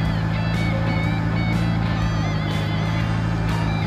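A forklift's engine idles steadily and close by during operation, a constant low rumble with a faint whine and a few light knocks over it.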